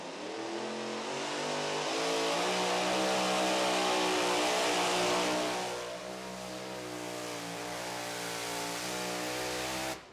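A super modified two-wheel drive pulling truck, a Ford, revs hard on the track: a loud, sustained roaring engine that climbs, holds at full power, then eases slightly before cutting off.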